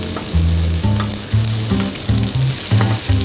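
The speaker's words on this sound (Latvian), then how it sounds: "Liekam tārties sīpolu." Onions and eggplant fry in a pan with a constant bright sizzle, while low, rhythmic tonal pulses run underneath, close and fairly loud.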